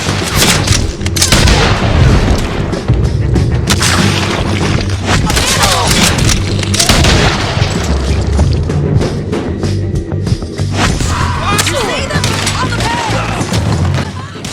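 A video game shootout set in St. Denis: loud, dense bursts of gunfire mixed with heavy booms and crashes, rattling on without a break.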